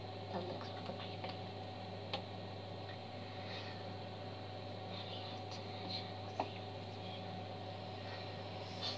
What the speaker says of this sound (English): There's like a fan up there.